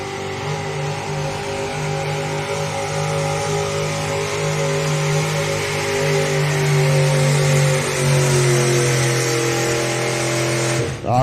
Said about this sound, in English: Here we go, Pro Stock four-wheel drives.